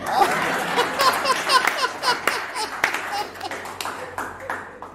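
A studio audience claps to welcome poet Shrikant Singh, sharp scattered claps and bursts under a speaking voice, with a few chuckles mixed in.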